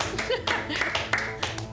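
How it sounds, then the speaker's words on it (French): During a quiz game, a small audience claps for the winners in short, uneven bursts of hand claps, with people talking and laughing over the clapping. "On peut les applaudir."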